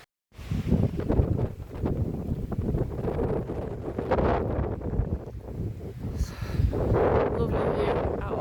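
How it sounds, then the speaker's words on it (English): Gusty wind on a hillside above Loch Ness in the Scottish Highlands buffets the microphone in uneven rushes, with a rustling, roaring texture rising and falling throughout; no talking is heard. "Still very windy."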